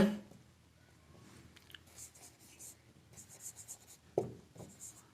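A pen writes maths working on paper in close, quiet scratchy strokes, with short bursts and pauses between them and a faint click near the end.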